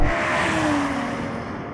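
A BMW M5 V10 Touring surges past in a drag race, a brief rising engine rush with a gear change, whooshing by and fading out within a couple of seconds.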